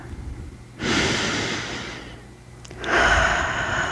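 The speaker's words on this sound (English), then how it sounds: "Try to take a deep breath in" A slow, deep inhale rises close and soft, holds for about a second, then a second breath follows near the end, quiet and intimate with no talking.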